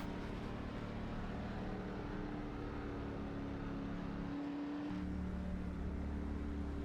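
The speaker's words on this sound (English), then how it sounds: "I love the sound of these Camaros." A Chevrolet Camaro stock car engine in iRacing at Dover, part of an Xfinity-class race, drones steadily and loudly with a sustained rich tone that dips and shifts pitch briefly near the end.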